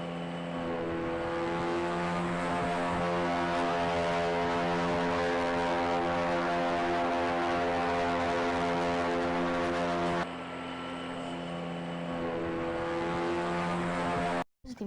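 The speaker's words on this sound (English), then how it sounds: "This is the Mars helicopter." Mars helicopter rotors spinning during an Earth flight test inside a NASA test facility, a loud, steady, buzzing drone that holds for about fourteen seconds before cutting off abruptly.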